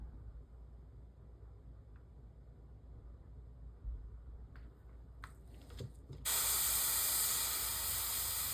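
An airbrush fed with diseased umber paint through a detail brush bursts into a steady, loud spraying hiss after several seconds of quiet handling and faint clicks, then holds continuously.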